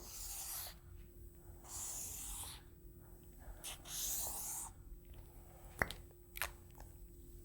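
Pen scratching across paper while a risk profile chart is drawn, a soft rubbing scrawl of separate strokes with short pauses, close and quiet, no talking.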